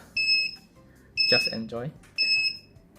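Three evenly spaced sharp electronic buzzer beeps from an STM32 Nucleo board's safety door lock alarm, each about a third of a second long, with a person speaking briefly between them.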